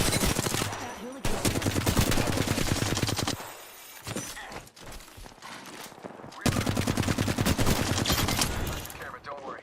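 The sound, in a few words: gunfire in the video game Apex Legends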